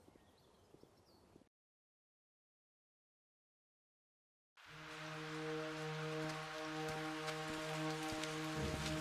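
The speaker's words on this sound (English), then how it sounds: "It's raining, it's a dark alley." Rain falls in a dark alley in the video game We. The Revolution. A brief faint noise gives way to a few seconds of silence, then a steady, dense hiss of rain with a low hum beneath it runs to the end.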